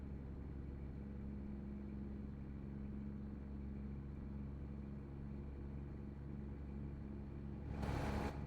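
A truck engine in American Truck Simulator strains under a heavy chained-down load, a steady low rumbling drone that holds throughout and swells slightly in the last second.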